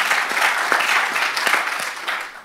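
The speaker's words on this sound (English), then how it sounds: "May I have a round of applause," Audience applause at a lecture marking a 25th anniversary of a reading foundation, a dense burst of many hands clapping that holds steady for over two seconds before starting to fade.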